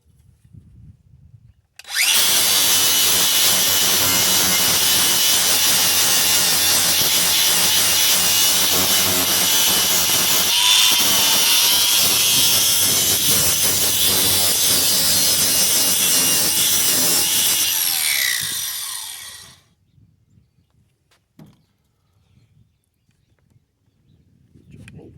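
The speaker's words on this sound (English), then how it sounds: "I'm just using a flapper wheel" A flap wheel on a power grinder sands down the metal of a utility trailer tongue, starting abruptly with a loud, sustained rough whine for about sixteen seconds before spinning down, leaving near silence.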